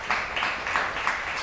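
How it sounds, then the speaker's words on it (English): Steady applause from an audience for panel experts at a blockchain panel event, a continuous wash of many hands clapping at moderate volume for a little over a second. "let's get another round of applause for our experts up here"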